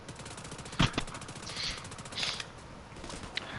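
A few sharp gunshots from The Division 2, one louder crack followed by fainter bursts and mechanical clatter, all fairly quiet and brief against a low background.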